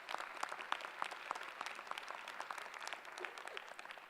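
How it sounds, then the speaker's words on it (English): An audience at a university Founders Day convocation applauds a speaker, a steady crackle of many hands clapping without pause. "Give him a round of applause."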